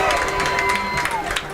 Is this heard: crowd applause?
yes